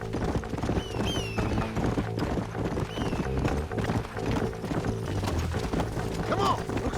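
Horses gallop in Red Dead Redemption, their hooves pounding out a steady, rapid clip-clop that runs without a break. Thin birdlike chirps and a busy outdoor game soundscape sit around the hoofbeats.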